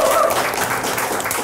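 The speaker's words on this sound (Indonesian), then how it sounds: "Kita kasih tepuk tangan lu buat Boyan" Audience applause for comedian Boyan on an Indonesian comedy talk show, a steady wash of clapping filling the whole short stretch at even loudness, with some speech mixed in.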